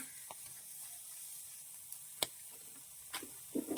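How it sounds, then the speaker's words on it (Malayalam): Onion and spices frying in a pan, a quiet steady sizzle with a few sharp crackles and pops, close and faint, no voices. "നമ്മൾ അതിന് വേണ്ടിയിട്ട് കുറച്ച് ഉള്ളിയും കവളവും കൂടി നമ്മളൊന്ന് ആദ്യം തന്നെ വറുത്തെടുക്കുവാണ്"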